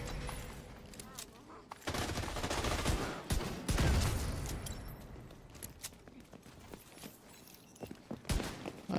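Hand cannon gunfire in The Division 2, a gun from the game's second raid, with repeated loud shots and bursts of combat noise over a busy game soundscape, with speech-like chatter in parts of the mix.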